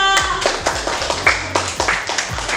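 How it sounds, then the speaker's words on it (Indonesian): A small group claps hands together, quick uneven claps close by, lasting a couple of seconds. "tepuk tangan untuk kelompok 2"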